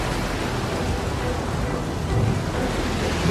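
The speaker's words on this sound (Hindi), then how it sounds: "मैं जानता हूँ ये भयंकर तूफान मेरी वजह से तुम पे आया है" A thunderstorm at sea roars as a dense, steady wash of rain, wind and surging waves, loud and unbroken with a low rumble, with no voices.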